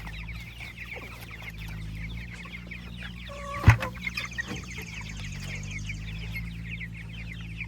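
Several chickens cluck and chatter continuously nearby over a low steady hum, with a brief clank partway through.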